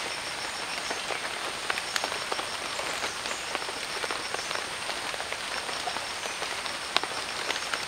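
Rain falls steadily on an evergreen forest campsite in Nagaland, a dense, even patter of drops with scattered sharper hits and frogs croaking faintly underneath. No voices are heard.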